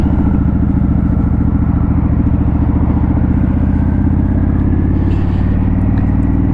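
A Harley-Davidson Sportster S motorcycle engine runs steadily at idle, a loud, close, continuous low throbbing rumble with mechanical clatter and no talk.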